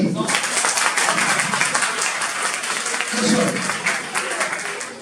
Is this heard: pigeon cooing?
no